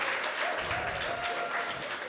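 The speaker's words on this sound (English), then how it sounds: "Give them another round of applause" Audience applause at a secondary transition expo keynote, a steady, moderately loud patter of many hands filling the short moment without pause.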